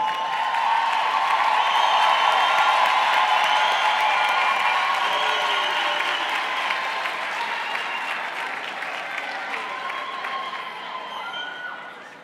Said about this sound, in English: Can I please have a round of applause for all our graduates?